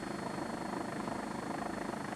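A camera helicopter hovers over a 1990 cycling road race stage near Birmingham, its rotor giving a steady, even drone throughout, fairly quiet and with no voices.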